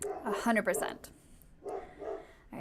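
Dogs bark in a few short, fairly loud bursts toward the end, mixed in with someone talking nearby.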